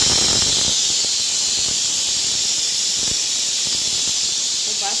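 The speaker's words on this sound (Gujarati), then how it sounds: "કુકરને સોટી બોલાવી દીધી" A pressure cooker cooking dal vents a sustained, loud, hissing steam whistle that holds steady throughout, close by, with a few faint low knocks beneath it.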